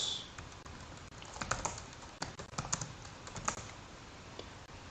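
Keys clatter on a computer keyboard as a short command is typed, a close, irregular patter of light clicks over a steady hiss, with no voice.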